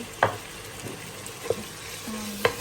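Corned beef and ground beef frying with onion in a pan for spaghetti, a low steady sizzle broken by a few sharp utensil clicks and scrapes from stirring, no voices.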